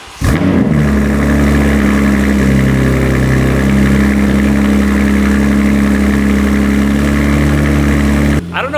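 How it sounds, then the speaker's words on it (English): A BMW M2 with a titanium mid-pipe exhaust fires up with a sharp crank and then settles into a loud, deep, steady idle that runs close and unbroken for several seconds. "that is a totally different sounding startup"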